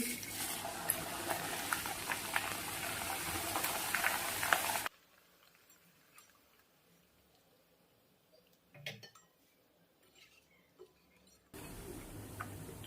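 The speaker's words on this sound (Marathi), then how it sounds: "बारीक उकळी आली बघा मी पुन्हा थोडेसे पोहे टाकते" Oil heats in a pan for frying flattened-rice chivda. A bright, steady sizzle runs for about five seconds, then goes quiet with a few faint clinks, and the sizzle returns near the end.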